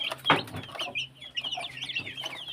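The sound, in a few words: Rhode Island Red chickens clucking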